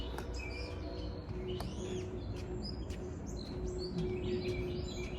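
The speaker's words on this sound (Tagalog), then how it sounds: "Maraming ibon." Many small birds chirp and trill in quick overlapping calls from close range along a tree-shaded park trail in Georgia, USA, over a steady low outdoor rumble, with no talking.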